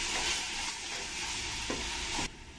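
Garlic paste sizzling and being stirred in a hot pan while cooking vegetable pulao, a steady close frying hiss with scraping stirs throughout, no talk.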